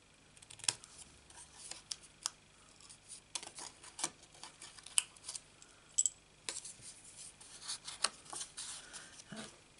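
Scissors snip through cardstock in short, close, crisp cuts, a paper-craft job cutting poppy pieces; about a dozen separate snips come at an irregular pace, with quiet pauses between them.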